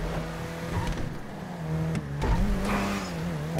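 A car engine revs and accelerates during a street race in Grand Theft Auto V, the sustained engine tone rising and shifting in pitch at close range, loud and continuous with no talking.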